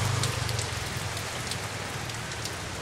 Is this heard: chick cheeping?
no